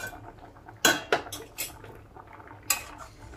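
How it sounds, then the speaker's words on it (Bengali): A metal lid lifted off a cooking pot of mixed vegetables simmering for a vegetarian Bengali curry, giving a few sharp clanks and clinks close by, with one more clatter a moment later, and no talk. "পাঁচ মিনিট পর আমি ঢাকনাটা খুলে নিচ্ছি"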